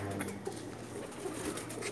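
Soft cooing of Pakistani pigeons on a rooftop in Jeddah murmurs at a distance, low and steady, with faint ambient noise and no voices.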